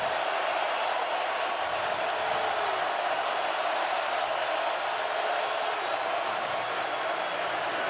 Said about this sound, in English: And the crowd will get louder